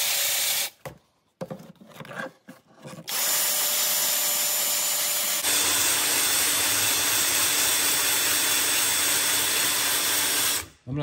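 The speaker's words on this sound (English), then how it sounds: "I'm going to sand it up, put some finish on it" A large wood burl platter being sanded on a lathe, with a few short bursts of the power sander early on, then a steady loud continuous whir and rubbing of abrasive on wood that cuts off near the end.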